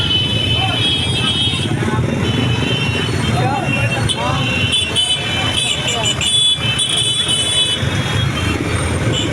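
Heavy, congested road traffic in front of a school in Caloocan at dismissal time, a dense continuous wash of engines with car horn toots scattered throughout and people talking over it.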